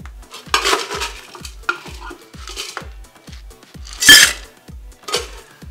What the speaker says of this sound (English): Let's put a little ice in here.